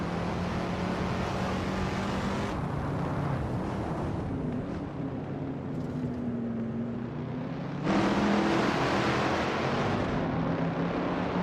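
Race car engine from a racing video game, a 1973 Toyota Celica in Group 3, droning steadily with audible pitch climbs and drops as it shifts, loud and continuous.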